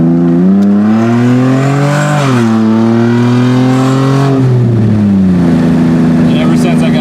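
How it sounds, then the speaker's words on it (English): An Infiniti G35X car engine revs loudly and close by, its pitch rising and falling through several throttle swells. No distinct backfire pop stands out. "It does have a nice little backfire noise."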